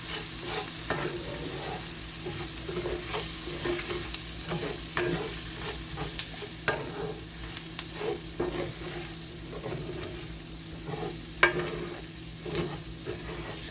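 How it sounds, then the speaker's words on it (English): A cup of rice stirred in a pan to coat it with oil and flavor for a one-pan chicken and rice dinner, with a steady sizzle and repeated scraping stir strokes throughout, close and alone. "Now I'm going to get the rice all coated."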